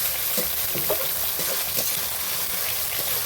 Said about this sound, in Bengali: মাংসটা খুব সুন্দর করে কষা হয়ে গেছে, তেল বেরিয়েছে